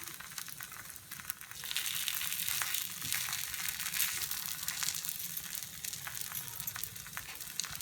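Kara paniyaram batter sizzling and crackling steadily in a paniyaram pan over a low flame, a continuous close bubbling hiss with faint scraping, no voices.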